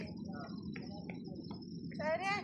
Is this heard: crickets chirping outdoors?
yes